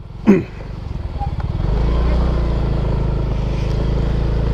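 Two motorcycles ride in at the entrance gate of Gunung Pancar nature park. The engine noise swells from a sputtering idle into a steady close, loud drone, with voices briefly over it at the start.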